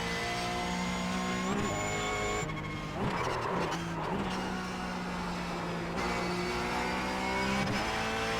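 Car engine in a sim racing video game during laps, revving steadily at high pitch with gear shifts and brief dips, continuous and loud, with some tire squeal.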